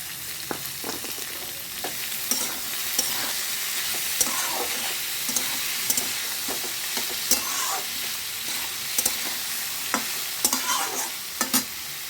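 Chopped banana flower (mocha) fries in a pan under a continuous hiss, broken by repeated scraping stirs of a spatula across the pan over about twelve seconds.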